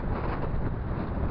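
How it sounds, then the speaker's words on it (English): Strong coastal wind by the old Boddin lime kiln in Scotland buffets the microphone, a loud, dense low rumble that roars steadily through the short stretch with no talking. "The wind here is colossal."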